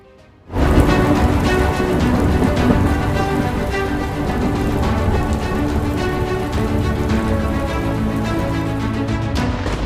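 Heavy monsoon rain in Valsad, Gujarat, starts abruptly after a quiet moment and pours steadily, loud and close, drumming on surfaces for the rest of the clip.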